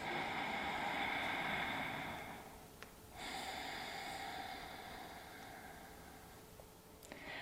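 A long, close, airy exhale during a yoga breathing exercise for bloating is followed by a brief pause, then a steady inhale, quiet and unaccompanied by talk.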